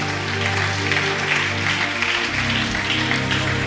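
A church congregation cheering and clapping during a service, a loud sustained wash of applause and voices over a droning organ-like chord, continuous across the whole moment.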